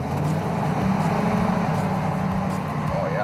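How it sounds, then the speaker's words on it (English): The Ecto-1 Cadillac's engine rumbles steadily as the classic car drives along, a constant loud low drone with road noise and no clear talk. "It's got that beautiful Cadillac motor."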